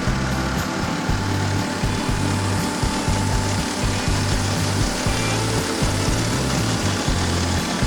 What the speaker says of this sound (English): And I'm going to run the motor once.